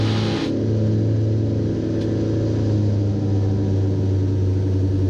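A loud, steady, throbbing drone of a Twin Commander's twin geared propeller engines at high power, accelerating after takeoff, heard from up close, with no talking.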